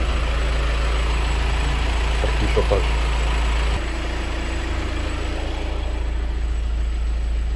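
A car engine with a coolant leak at the intake manifold idles steadily while its cooling circuit runs, a low, constant hum close by as someone speaks briefly over it.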